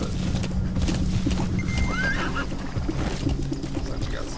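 A horse gallops in Metal Gear Solid V: The Phantom Pain, with steady hoofbeats under a dense game soundscape and a brief high whinny partway through, at moderate level throughout.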